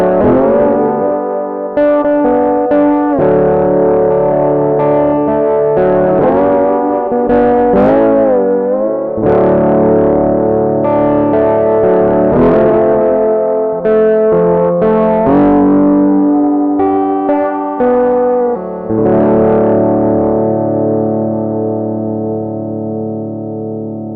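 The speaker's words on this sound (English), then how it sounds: "let's roll off the tone knob on the Telecaster and see how drastically the sound changes" Telecaster guitar played through a germanium fuzz pedal with the tone knob rolled off, producing warm, dark, saturated fuzz. The notes and chords are loud and sustained, and the phrases ring out alone with no talking.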